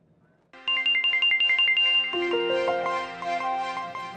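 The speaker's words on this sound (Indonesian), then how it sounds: "Papa angkat telepon dulu ya." A phone ringtone starts abruptly and plays a bright, repeating electronic melody, loud and close, its notes pulsing in a quick regular rhythm for several seconds.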